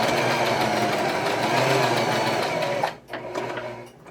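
A domestic sewing machine runs steadily, stitching the corners of a puffy fabric Christmas tree, then stops briefly before a shorter burst of stitching; close and clear, with no talking.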